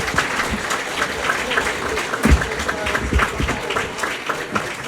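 Audience applause at the 2019 Half Moon Bay Coastside Chamber of Commerce awards for a volunteer award winner, steady moderate clapping throughout with a few louder claps standing out.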